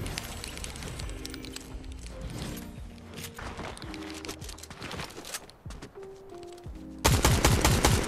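Rapid automatic gunfire in the Fortnite Chapter 5 video game, dense bursts of shots throughout with brief pauses, ending in a loud, close volley of fire.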